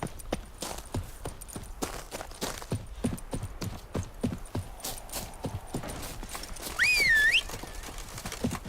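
The horse Roach gallops in The Witcher 3, a steady run of close, rhythmic hoofbeats on the ground, briefly joined near the end by a sharp rising whistle.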